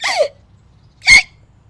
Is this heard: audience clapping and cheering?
no